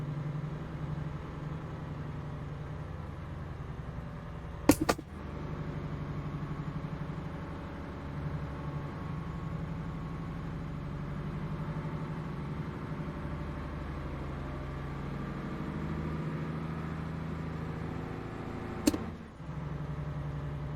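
A lorry engine in Euro Truck Simulator 2 runs as a steady low drone for the whole stretch, with the revs shifting slightly and two brief sharp clicks partway through. No voices break in.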